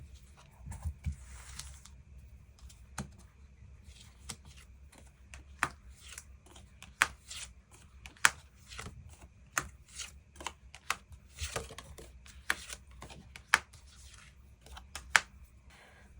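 Tarot cards are shuffled and drawn in a quiet room, giving soft riffling at first and then a string of sharp card snaps and slaps at irregular intervals, close-up and crisp against a low background.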